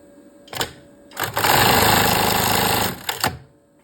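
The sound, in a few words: sewing machine stitching a panty strap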